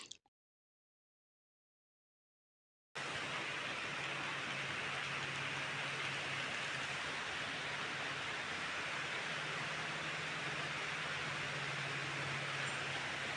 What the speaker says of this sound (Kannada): ನೈಟು ಮಳೆ ಕೂಡ ಜೋರಾಯಿತು